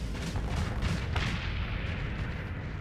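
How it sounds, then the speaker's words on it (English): A Reaper torpedo fired and exploding in the Starsector space game, a dense low booming blast that rumbles and fades over a few seconds, with no voices. "blow up immediately with a Reaper torpedo"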